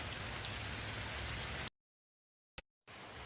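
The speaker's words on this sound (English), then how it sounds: "Rain is still coming down." Heavy Hurricane Harvey rain pours down in a dense, steady hiss, cuts out abruptly to silence with one brief burst, then resumes just as strongly.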